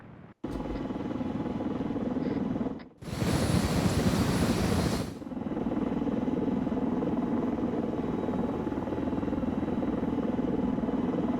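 A military helicopter in the game Arma 3, heard from inside or close by as a loud, constant rotor thrum and turbine drone, briefly swelling into a rushing wash midway before settling back to the steady beat.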